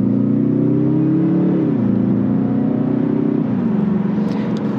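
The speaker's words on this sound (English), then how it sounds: "has a little bit of engine rumble, you know, sound in the vehicle" Cabin view of a 2022 Mazda 3 sedan's 2.5 turbo AWD engine pulling under acceleration, a loud steady low drone whose pitch drops in two steps as gears shift.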